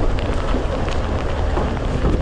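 Rain drumming on a corrugated iron roof during a safari drive, a loud, dense, continuous patter with a low rumbling wash beneath and no pauses.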